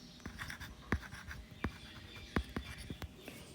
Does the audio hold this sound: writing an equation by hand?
yes